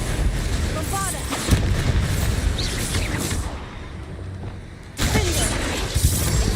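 Bombarda spell blasts in Hogwarts Legacy combat against a troll: heavy booming explosions and crashing debris over busy battle noise, with a loud burst early and another near the end.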